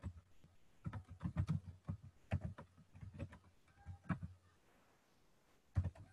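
Typing on a computer keyboard during a lecture, heard as quiet bursts of soft, irregular key taps with short pauses between clusters in a hushed room.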